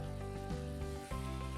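Water bubbling and sizzling in a hot pan as brown bits of miso garlic minced pork fond are scraped up during deglazing; a steady close hiss with a brief dip in the middle, no talk.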